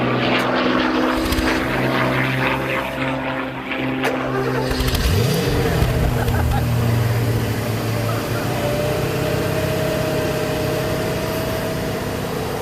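Left-hand-drive Porsche 928 S4 engine running continuously at a steady idle, a low throbbing hum close by with a brief rise in revs midway, under intermittent talking.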